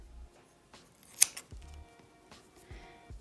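Scissors cut through crochet yarn with one sharp snip, set against soft handling noises and quiet rustles of the yarn.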